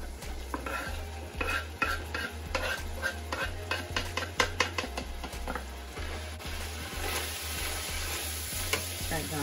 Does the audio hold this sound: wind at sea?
no